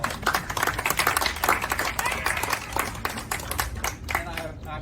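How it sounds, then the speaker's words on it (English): A round of applause for Family Services staff at an outdoor gathering with the governor, with dense, fairly faint clapping from a crowd that thins toward the end while a few voices murmur underneath. "please give Family Services a round of applause."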